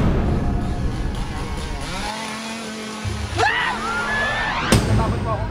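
A chainsaw roars in a scary horror-show scene, its engine droning loudly and steadily throughout, with rising whining revs and a sharp crash near the end.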